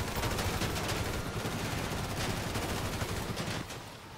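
Rapid continuous gunfire in the video game GTA V, dense automatic bursts filling the clip at close range, easing slightly in the final half second, with no voices.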